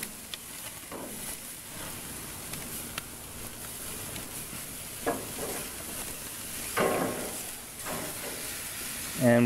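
Beef filet mignon steaks sizzle steadily on a hot grill, a constant close hiss and crackle with occasional sharper pops and a louder clatter at the end.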